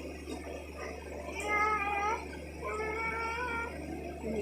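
A human voice imitates a cat's meow with two drawn-out, wavering meow-like calls, close and moderately loud over faint background noise, in a playful animal-sounds game at home.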